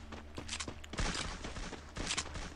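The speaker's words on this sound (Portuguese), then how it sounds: "oh, um tiro" Gunfire in an online 4v4 ranked shooter match, a burst of sharp cracks with scattered footsteps and clatter, heard alone with no talk.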